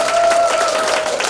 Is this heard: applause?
yes